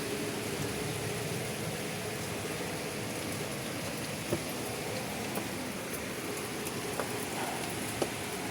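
Storm rain falls steadily in a soft, even hiss, moderately quiet, with a few sparse drip or tap sounds standing out.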